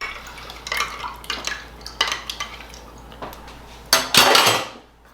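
A spoon clinks and scrapes against a glass jar while a ginger bug of grated ginger and sugar is stirred, scattered close taps and a louder rattling swirl near the end.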